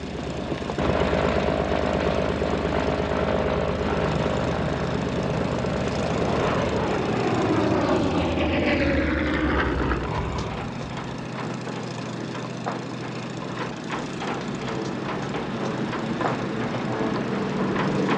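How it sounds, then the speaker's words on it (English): Propeller fighter planes launch with a loud, sustained engine drone that rises and sweeps past in pitch, then settles into a steadier rumble with a lingering buzz. "Stand by to launch fighters."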